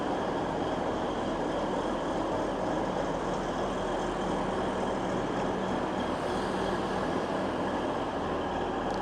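A steady, heavy rumble of a train at a railway station fills the whole clip, loud and continuous with no pauses.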